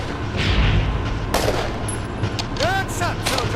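Rifle shots from the World War II shooter Iron Front 2, a few sharp reports over a low steady rumble of ambience, with a brief voice between shots.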